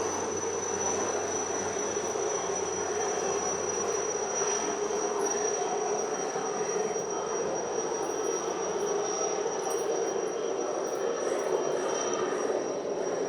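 An airplane flies overhead, producing a continuous broad roar that holds steady and fairly loud throughout, with a thin high insect-like whine running alongside and no voices.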